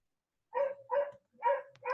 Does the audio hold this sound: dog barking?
yes